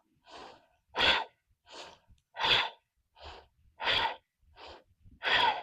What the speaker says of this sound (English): And remember to breathe. Inhale,